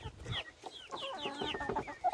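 Farmyard hens cluck and squawk close by while being fed breakfast scraps, several birds overlapping in quick, busy, uneven bursts of short calls.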